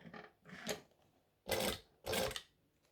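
A sewing machine stitches a pouch slowly in several short bursts, with a whirring mechanical hum that starts and stops, the last two runs louder and steadier, up close with no voices.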